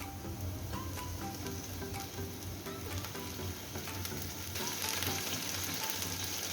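Ginger garlic paste sizzling in hot oil in a pan alongside pangas fish pieces for a bottle gourd greens curry, a steady close frying hiss that swells louder toward the end, with no talk.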